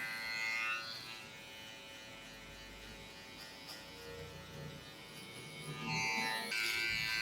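Electric hair clipper cutting a low fade, a faint, steady buzzing hum that runs throughout at low volume with slight swells near the start and end.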